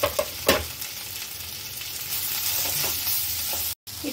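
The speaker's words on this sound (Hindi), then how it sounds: "देखिए मेरे प्याज टमाटर और मसाले भी थोड़े फ्राई हो गए हैं" Onion, tomato and spices such as turmeric, cumin powder and garam masala frying in a pan for masala dosa filling, a steady close sizzle with a few stirring scrapes and a brief dropout near the end.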